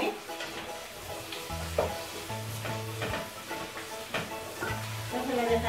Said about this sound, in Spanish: que sofría la cebolla bien con la calabaza